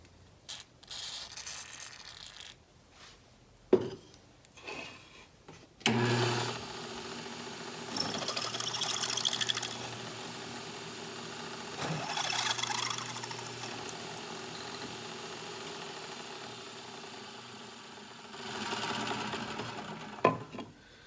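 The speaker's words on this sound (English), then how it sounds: "All right, there's our holes drilled." A drill bores holes through a metal blade guard for a worktable sawmill, starting with a few short bursts and then running as a steady, loud mechanical whine for about fifteen seconds before it stops. Nobody speaks.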